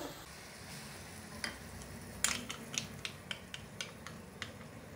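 Soft sizzle in a pan with a series of sharp spoon scrapes and clicks as thick blended tomato masala for pav bhaji is stirred, no one speaking.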